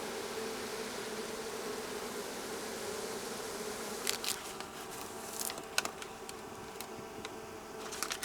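A low, steady buzzing of many bees hums throughout, joined partway through by scattered light taps and clicks.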